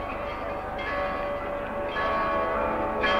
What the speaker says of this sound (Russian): В Ростове Великом звонят колокола, как 300 лет назад, как 100 и 200 лет назад